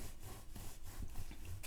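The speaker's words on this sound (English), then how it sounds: "I like using the hacksaw on the clay because it has a very fine blade" A fine-bladed hacksaw cuts through a clay candy bar with soft, rhythmic back-and-forth rasping strokes, quiet and close with no other sound.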